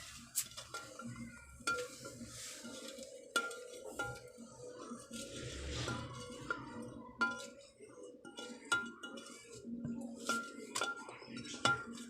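A spoon clinks against a glass or jug while stirring sugar into homemade strawberry lemon juice, with sharp repeated taps over soft swirling, fairly quiet and close.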